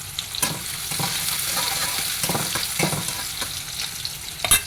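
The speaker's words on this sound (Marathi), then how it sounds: "कांद्याची परतून घ्यायचं आहे." Onions sautéing in oil in a kadhai, a constant close sizzle broken by repeated scraping strokes of a spoon stirring, with a louder clatter near the end.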